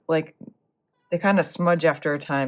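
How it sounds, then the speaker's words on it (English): A pet cat gives a short, nearby meow in a quiet room. After a pause, a person starts talking and goes on over the background. "That's my cat in the background."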